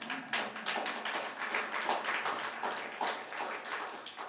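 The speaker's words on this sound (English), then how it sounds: "How about clapping for yourself?" Audience at a water-rights gallery opening claps steadily, a close, dense patter of hands lasting several seconds without talk.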